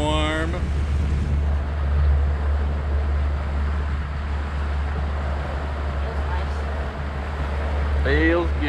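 A fishing boat's outboard motor runs steadily at speed, a loud constant low drone with rushing wind and water noise, and voices speak briefly at the start and end.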